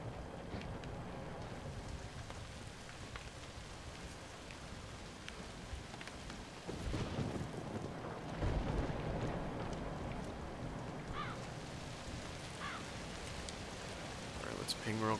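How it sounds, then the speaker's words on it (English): Thunder and rain in a zombie video game, a continuous wash of rainfall that swells as a deep rumble of thunder rolls in midway, with scattered clicks and a voice talking intermittently. "Wow, this thunder's loud."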